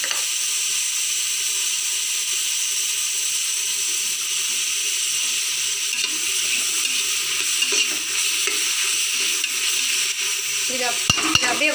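Ingredients for Ambur biryani sauté in a hot pan with a steady, dense sizzle and the occasional scrape of stirring, close and continuous throughout with no talk.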